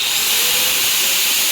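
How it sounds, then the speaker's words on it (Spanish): A bench grinder starting up on power from a car battery inverter, a loud continuous broadband whine and hiss held steady at close range, with no voices. "que es al arrancar el esmeril"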